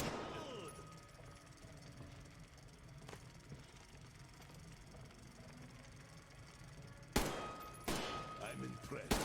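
Gunfire at targets in the Metro Exodus shooting range, starting with a faint rumble under a low voice and building to several loud, sharp shots near the end.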